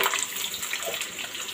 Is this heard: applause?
no